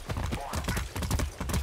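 Hooves clip-clop in a quick, steady rhythm as a horse is ridden in the Far Cry 6 video game, the hoofbeats loud and close.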